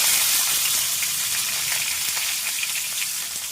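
Pirandai (veld grape) stems sautéing in oil in a pan, a steady close sizzle and crackle with faint stirring, heard alone without any talk.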